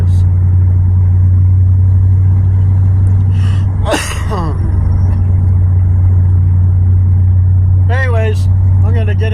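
A farm truck engine runs steadily with a faint sputter, a loud continuous low drone throughout with brief breathy noises over it.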